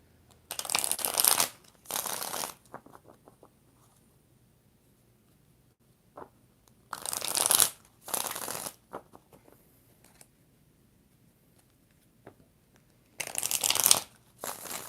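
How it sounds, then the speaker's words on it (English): A deck of tarot cards is shuffled in three separate rounds, each a crisp riffling burst lasting a second or two, close by, with quiet pauses in between and no talking. "4 shuffles for Kimberly Sanchez."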